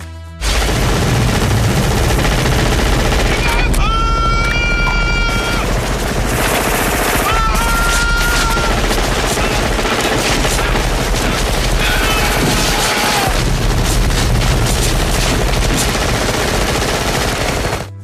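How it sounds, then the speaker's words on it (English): Heavy automatic gunfire from the minigun Old Painless and other weapons in a jungle firefight from the film Predator: loud, sustained, dense bursts of rapid shots with booms and battle noise, continuing almost without pause. "Mac rushes over and begins firing at the creature, slightly wounding it, and then picks up Old Painless and continues to blindly fire"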